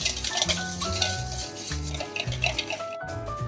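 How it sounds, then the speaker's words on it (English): Milk, yogurt and corn oil are whisked together in a bowl, with quick rhythmic strokes and light clinks against the side, alongside a faint tonal background. "Whisk it up and set it aside."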